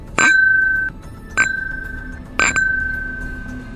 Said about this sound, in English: He was rhythmically, softly tapping the tip of the blade against the glass.